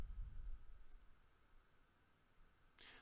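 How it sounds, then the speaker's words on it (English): A single sharp mouse click pressing a Save button in business software, quick and close, followed by quiet. "I'm gonna click Save."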